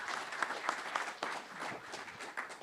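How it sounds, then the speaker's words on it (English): Audience applause for a speaker at an evening talk event, a steady crackle of many hands clapping that carries through the whole stretch at moderate level with no voices over it. "I think a big round of applause is deserved for Herman."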